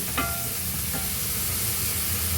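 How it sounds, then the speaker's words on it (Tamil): Onions sautéing with cumin in a pan give a steady, dense sizzle, broadband and constant, with a couple of faint utensil clinks near the start and no voices. "வெங்காயம் கொஞ்சம் நல்லா வதங்கணும் சரிங்களா"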